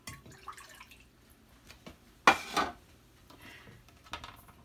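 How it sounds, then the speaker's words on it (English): Cup of 125-degree water tipped into a mixing bowl for cinnamon roll dough, a single short splash lasting under half a second and standing out clearly against a quiet kitchen with faint clinks. "I'm going to put the water in this bowl"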